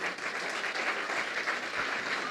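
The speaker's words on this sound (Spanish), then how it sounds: "Dale un fuerte aplauso" Enthusiastic applause from a church congregation, a thick, unbroken wash of many people clapping at close range, steady in loudness throughout.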